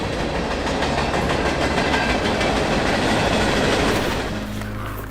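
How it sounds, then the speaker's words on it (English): A train rolls past on the rails at night, a loud, steady rumble with rhythmic wheel clatter that holds for several seconds and then eases slightly as it moves on, with no talk over it. "Here comes the train"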